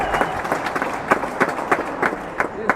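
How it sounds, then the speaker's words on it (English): A packed crowd at Seacourt Tennis Club cheers and applauds home favourite Will Flynn at a tennis final, with scattered claps and a voice over the crowd. "Big cheer for the home favourite, Will Flynn."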